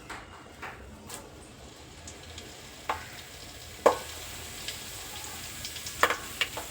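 Mustard seeds crackle in hot oil in a pan, a soft steady sizzle broken by scattered sharp pops that come more often toward the end, close and fairly quiet.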